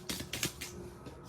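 Tarot cards shuffled by hand up close, a few quick papery riffling bursts in a short run with no voices.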